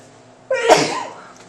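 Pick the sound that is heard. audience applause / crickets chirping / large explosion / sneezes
sneezes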